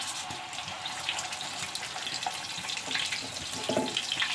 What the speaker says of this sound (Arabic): دابا غنقليوهم